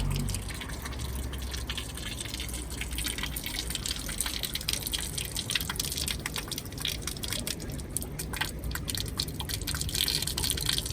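Natural spring water runs from a public tap in Manitou Springs, Colorado, a steady broadband gush with close dripping and splashing that continues throughout without any voices.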